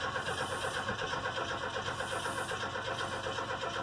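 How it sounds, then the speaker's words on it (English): A 1991 Chevy S10 pickup running on a fuel vaporizer cranks and churns steadily at close range, a continuous mid-pitched engine drone with a rough, pulsing texture throughout. "Let's jump in here and see now if this thing will start up."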